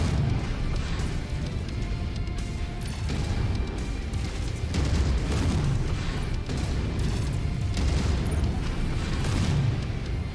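A mech in a video game fires an AC-5 autocannon alongside lasers, producing steady heavy booming impacts and blasts that continue across the whole stretch at moderate volume, with no talk over them.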